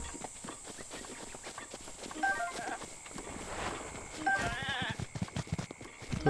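Goat bleats in Zelda Breath of the Wild, a few short wavering calls over a busy game backdrop of soft footsteps and ambient rustle, moderately close.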